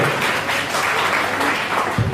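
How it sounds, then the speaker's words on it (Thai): A seminar audience applauds, a dense continuous wash of many hands clapping that stays loud and even throughout. "ปรบมือให้ด้วยปรบมือให้ด้วย"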